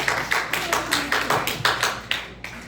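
A church congregation claps for the pastor's wife, with a brief run of steady, evenly spaced claps in a room, moderately loud and close.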